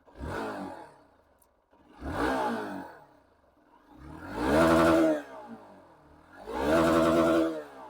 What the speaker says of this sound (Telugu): ఇప్పుడు రెవ్ ఇస్తాను.